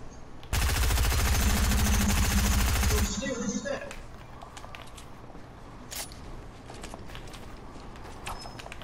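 In Fortnite battle royale, a loud, sustained burst of rapid automatic gunfire rattles for about two and a half seconds, then fades to scattered distant shots and footsteps, with people talking throughout.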